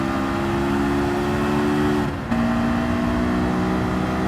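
A Honda S2000 engine drones at high revs in Gran Turismo 7, holding a steady tone and then cutting out briefly for a gear change before the drone picks up again.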